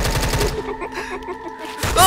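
Rapid bursts of gunfire in Minecraft aimed at Granny, sharp repeated shots clustered at the start and again at the end, loud and close, with a quieter stretch of rattling between.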